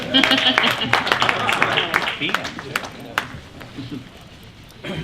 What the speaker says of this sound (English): Give our esteemed panelists a round of applause